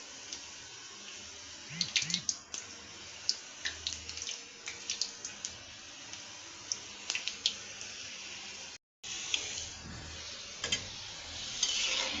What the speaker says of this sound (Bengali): এইভাবে আস্তে আঁচে আঁচে জালে জালে ভাজতে হবে